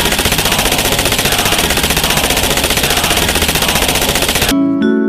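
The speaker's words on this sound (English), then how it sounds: "It's a machine gun!" Rapid, loud machine gun fire from Aphelios in League of Legends, a continuous stream of evenly spaced shots for several seconds that cuts off abruptly near the end.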